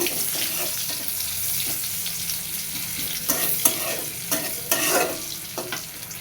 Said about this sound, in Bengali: কড়াইতে জিরে পেঁয়াজ কাঁচামরিচ ফোড়ন দিয়ে দিচ্ছি